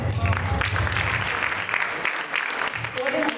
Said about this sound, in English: Can we have a big round of applause again for the artists, please?